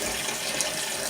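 Water pours steadily onto dry, packed garden soil, a continuous close splashing wash with no breaks over the short stretch.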